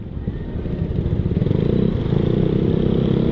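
Motorcycle engine heard from a Yamaha Mio Sporty scooter ride on the road, a loud close rhythmic pulsing drone that swells as another motorcycle hurries past.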